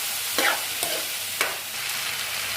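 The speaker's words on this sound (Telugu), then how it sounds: "ఆలు వేసుకున్నాక ఇప్పుడు బాగా కలుపుకోండి." Potatoes frying in a pan with curry leaves, a soft steady sizzle broken by a few quick scraping strokes of a spoon stirring, close and fairly quiet.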